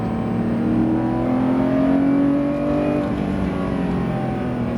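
A Porsche GT3 RS engine drones loudly and steadily, its pitch rising gradually as it accelerates out of a corner on the La Ferté-Gaucher track, close and continuous with no talking.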